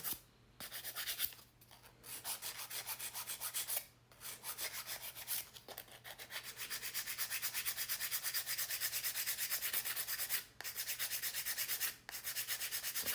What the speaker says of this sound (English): I hand file most of the nails until the end